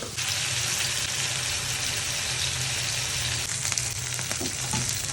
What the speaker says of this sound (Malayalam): ഇനി നമുക്ക് മീൻ നന്നായി പൊരിച്ചെടുക്കാം